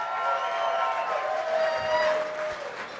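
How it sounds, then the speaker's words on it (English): A gala audience claps and cheers together, a sustained broadband wash of applause mixed with shouting voices that holds steady, loud and close, through the whole stretch. "I want you to clap your hands and make some noise if you're having fun here tonight."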